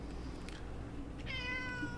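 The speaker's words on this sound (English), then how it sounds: "that's my cat, by the way." A house cat gives a single short meow near the end, heard indoors over a steady low background hum.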